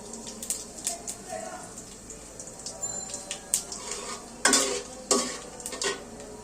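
Whole cardamom, cinnamon and cumin seeds frying in hot oil for bhuna khichuri, a crackling sizzle with bursts of spattering and clinks of a spoon against the pot, close, while someone talks.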